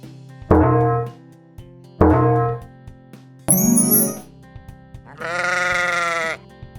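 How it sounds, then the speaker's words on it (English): Three loud sheep bleats, two short and close together and a longer one at the end, with a ringing chime in between, in a children's animal puzzle game. "Sheep."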